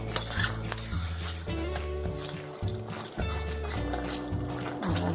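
Ripe plantain pieces are stirred in a pan while cooking banana pradhaman, a spoon scraping and knocking against the metal in a repeated rhythm over a faint sizzle, close and steady.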